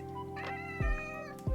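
A pet cat meows indoors, a few drawn-out, tonal meows close by, with brief thumps between them.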